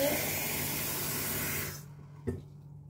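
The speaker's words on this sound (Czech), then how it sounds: "Pustíme vodu." Water runs from a kitchen tap in a loud, steady hissing stream that cuts off abruptly partway through, followed by a single small knock.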